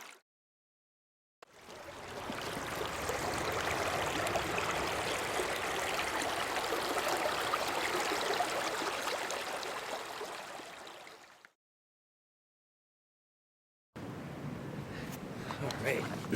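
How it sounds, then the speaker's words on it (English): A river's water swells into a loud, broad roaring rush that holds steady for about ten seconds, then drops out to silence before the rushing resumes. "did you hear the water come up? It started roaring there."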